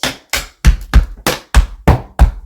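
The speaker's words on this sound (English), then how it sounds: "Now we're going to do 2 flap heels, right, left." Tap shoes strike a hard floor in crisp beginner flap-heel steps, eight sharp clicks and thuds in an uneven pairing rhythm over a couple of seconds, close and loud with no talking.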